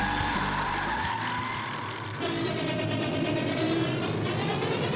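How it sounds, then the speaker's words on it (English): USMTS modified race cars roar around a dirt track as a loud, continuous wash of engine noise, and a rising, sweeping tone follows partway through as the cars pass, with no talk. "Green flag, the USMTS mods are underway."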